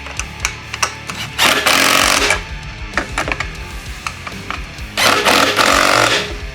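Impact gun used during a front wheel bearing and brake job on a Wildcat, two loud rattling bursts of about a second each against clanking and shop noise.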